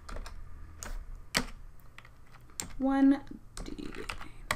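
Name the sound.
typing on computer keyboard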